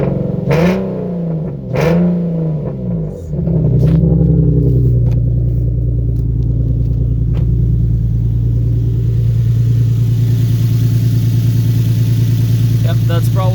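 A Nissan VQ37 engine with newly installed headers idles rough, a steady low rumble holding after a few early throttle blips and revs, close and loud.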